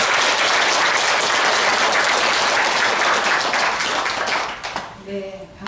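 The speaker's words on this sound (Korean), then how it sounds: "불자 여러분께서는 모두 큰 박수로 스님을 환영하시기 바랍니다" Indoor audience at a Buddhist dharma service breaks into loud, sustained applause welcoming a monk, dense clapping filling the hall for about five seconds before tapering off as a voice begins.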